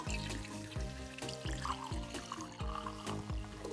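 Water pours steadily into a cooking pot as a base for champurrado, a trickling, splashing flow with slight pulses, quiet and close, with no talk.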